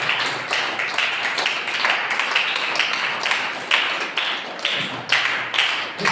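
A congregation at a Sunday church service claps hands together in a steady, even rhythm, the crisp claps repeating roughly twice per second throughout.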